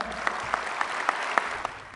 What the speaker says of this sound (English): he did get some applause on that